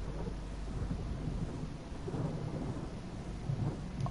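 Spell-cast thunderstorm effect from the video game Otherside: a steady, loud rumble of thunder with rain hiss running throughout, low and dense with slight swells, no voices.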